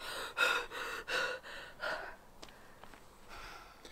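Heavy, labored breathing from a hiker unused to the elevation, with four loud gasping breaths in a steady rhythm that then fade to quieter breaths and faint rustling.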